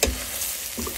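Vadi pieces, squeezed dry, dropping into a hot pan and frying with a steady close sizzle, a brief stirring clatter at the start and a fresh burst of crackle near the end, no talking.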